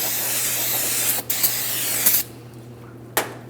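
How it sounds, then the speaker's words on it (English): Parts cleaner sprayed from an aerosol can onto a brake rotor of a 2008-2016 Chrysler Town & Country, a long steady hiss of close spray that stops, followed by one short extra burst. "I'm going to use some parts cleaner and a clean rag."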